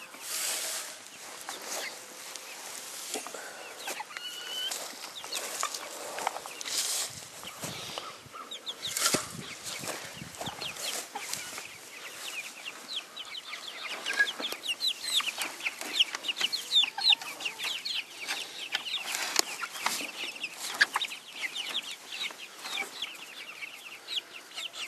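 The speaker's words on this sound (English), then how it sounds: "These chickens, they're ready to move. They're looking and scratching." Chickens cluck and murmur steadily nearby, with soft scratching and rustling throughout and occasional louder clucks, no talking.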